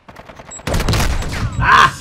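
Rapid gunfire in the video game Modern Warfare 2, a dense burst of loud close shots following a short lead-in, with a bright ringing swell near the end.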